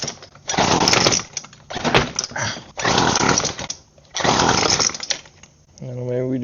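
A repaired gas weed eater engine catches and revs in loud bursts that rise and fall, with a few short pauses between them, close to the microphone.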